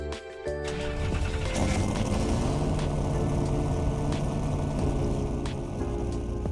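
Engine start-up of a 2017 Saleen S7 LM in the Roblox game Greenville: a brief crank followed by a steady, loud, continuous idle with a rich low rumble filling the rest of the moment.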